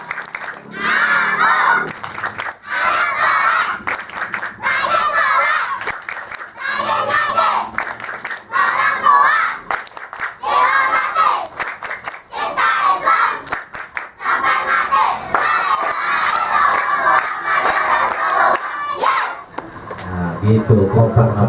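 Children at a thanksgiving gathering in Bekasi chant the tepuk anak soleh together in loud, rhythmic group phrases, with clapping mixed in, sustained for about twenty seconds before ending in a short burst of shouting.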